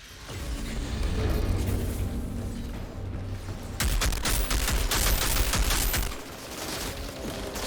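Gunfire in the Outriders video game, fired in bursts rather than full auto. Quick, loud rattling shots come close together, with a brief drop in volume partway through and mechanical clanks mixed in.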